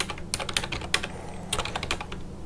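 Rapid keystrokes clatter on a computer keyboard, an irregular run of close, crisp clicks in short bursts with no talking.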